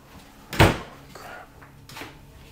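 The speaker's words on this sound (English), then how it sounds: "I'm gonna close this door." A door in an old haunted house swings shut with one firm, nearby thud, followed by a faint creak and soft rustling in a quiet room.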